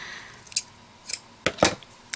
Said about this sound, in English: I'm just going to cut a good length of it.